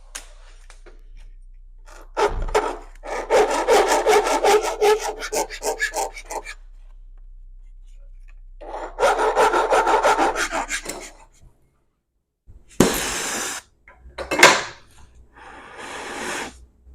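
A brass vise jaw pad piece is cut by hand in a workshop. Two long runs of rhythmic rasping strokes come first, then a few sharper, louder scraping bursts near the end, close and dry, with quiet pauses between.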